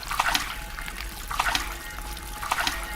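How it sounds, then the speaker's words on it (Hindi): Hot water runs from a bathroom tap as someone washes her face, a steady close trickle broken by splashy bursts of hands scooping water, repeating roughly every second, with no talking. "और गर्म पानी से अपना चेहरा धोती है।"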